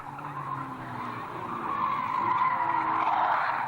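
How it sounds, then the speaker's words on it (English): A club racing car spins through a full 360 at a motor club meeting, its tyres squealing in a sustained, rising screech over engine noise, fairly close and loud. "Bill Aldred is spun round big time. He's done a 360"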